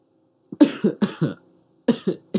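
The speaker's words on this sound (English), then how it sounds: "My coughing is getting better." Two quick bursts of harsh, close coughing, several coughs each, separated by a short pause.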